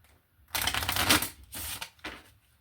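Tarot cards are shuffled up close in a few quick riffling bursts, a long one followed by two shorter ones, with brief quiet between.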